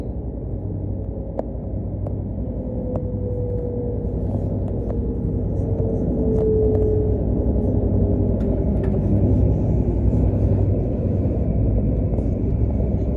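Merredin Link train rolling into Tammin, heard from on board as a continuous low rumble of running gear with faint clicks and a soft whine, steady and unbroken for the whole stretch.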